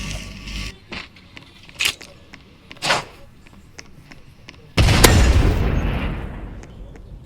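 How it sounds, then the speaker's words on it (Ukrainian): In a shooter video game, a bomb is thrown amid scattered clicks and thuds, then bursts into a loud explosion whose rumbling roar slowly fades over several seconds. "Візьміть пістолет і бачите, там щось є бомба. Кидайте її."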